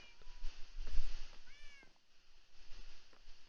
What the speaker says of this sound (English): We have some cats, Artemis, Apollo.